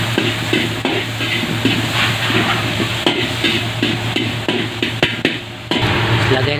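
Garlic, tomato and onion sauté together in a pan for mussel soup, a steady close sizzle with scraping stirs and occasional utensil knocks throughout, a faint voice in the background.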